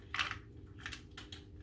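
A key turns in the roof rack lock of a Honda Jazz, giving a few close, small metallic clicks and scrapes spread over a second or so; no talking.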